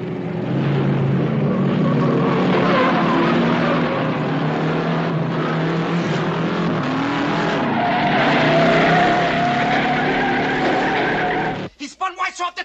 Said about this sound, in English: He spun Wise off the track.